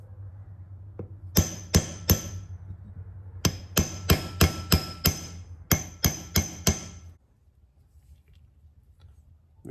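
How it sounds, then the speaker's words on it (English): A run of sharp metallic blows from a body hammer seating a front wheel bearing on a 1955 Chevy, in quick bursts of three and five, loud and close, then quiet with a low hum underneath. "Let's use the old body hammer."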